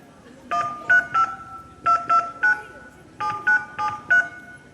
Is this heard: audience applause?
no